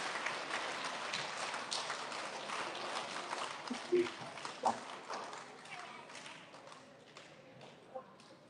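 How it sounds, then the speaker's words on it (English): Families and friends applaud student award recipients at an elementary school recognition ceremony, a crackling spread of clapping that thins gradually, punctuated by a few sharper claps and thumps. "Can we give them all one more big round of applause?"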